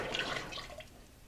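Liquid glaze pours out of a handmade pottery teapot, a brief splashing gush close up that fades out over a second and a half.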